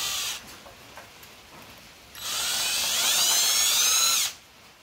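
A drill working on the identification plate of a 1950 Farmall Cub tractor, two bursts of high whining spin, a short weak one at the start and a longer, louder run, with quiet pauses between.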